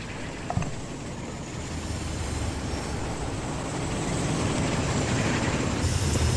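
A train rolls steadily through the rail-transport game Transport Fever 2, a continuous low rumble of wagons that swells slightly louder toward the end, with no talking.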